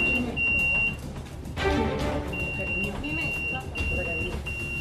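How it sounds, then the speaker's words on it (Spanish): A shop security alarm at a store entrance sounds as a thin, steady high-pitched electronic tone in short repeated runs, heard under people talking in the shop. "Estas clientas entran en la tienda y la alarma suena."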